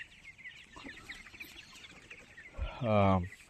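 Tiger breed chickens on a poultry farm cluck softly and intermittently, then one bird lets out a sudden loud, drawn-out squawk near the end, heard close up.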